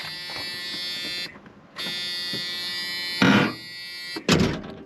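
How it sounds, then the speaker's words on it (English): A 1980s Ford Mustang's door-open warning buzzer drones with a harsh, steady electronic buzz in long stretches, broken by brief gaps and car-door thunks and handling noise, heard up close inside the car. "that buzzer is that infamous 80s disgust buzzer"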